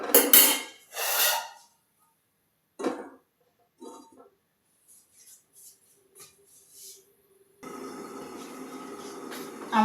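A metal lid clatters onto a pot of Bengali mushroom curry (mushroom jhal): several sharp clanks, some of them close together, then a steady low simmer-and-bubble hiss.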